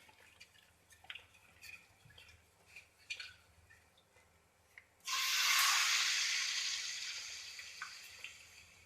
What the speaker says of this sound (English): So what I'll do is I would add my caustic solution.